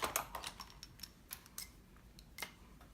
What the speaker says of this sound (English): Pull out my cutter bee scissors